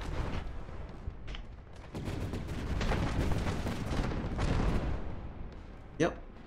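Ship guns in the naval game From The Depths fire in dense, continuous rumbling volleys with overlapping booms, while a voice talks over the barrage and a brief whistling streak cuts through near the end.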